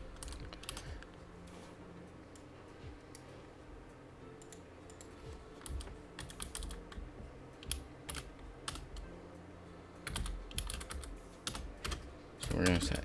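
Rapid irregular bursts of key clicks as code is typed on a computer keyboard, close and fairly quiet, with pauses between flurries and a low background hum.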